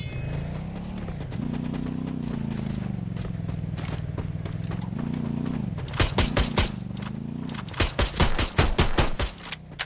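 Rapid bursts of gunfire crack out during a video game match, with sustained automatic shooting over a steady low drone and dense clustered shots near the end, loud and close.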